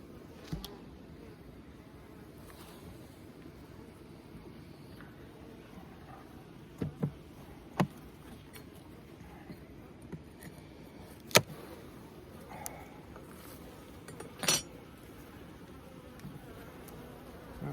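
Bees buzz softly and steadily around an open Layens hive during an inspection, with scattered faint clicks and knocks from frames being handled.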